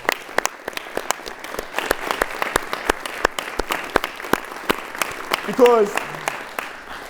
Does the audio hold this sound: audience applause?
yes